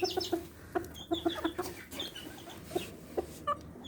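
Laying hens cluck in a garden with short, close, irregular clucks and soft chattering calls over quiet outdoor background noise.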